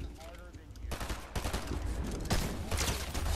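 Bursts of rapid gunfire from a Fortnite match in a solo cash cup crackle in quick volleys, loud and close, with game effects layered over them.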